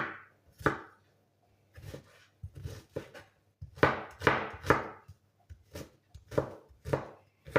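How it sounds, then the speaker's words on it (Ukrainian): A knife chops an onion on a board in quick, irregular bursts of crisp close taps, with short pauses between runs of cuts. "І я покрішу цибульку."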